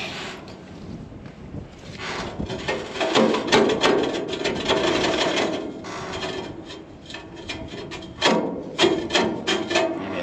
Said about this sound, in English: These portabands have a tendency to wander a little bit